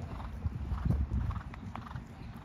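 Hooves of a horse clip-clop in a steady rhythm at a young riders' equestrian event, moderately close, with no talk over the footsteps.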